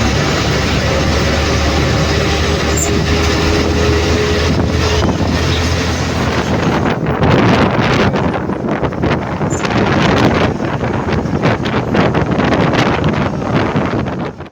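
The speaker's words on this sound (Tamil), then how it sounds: "காற்று செம காற்றா இருக்குதுங்க." Strong wind on a highway roars and buffets the microphone without a break, loud and rumbling from start to finish.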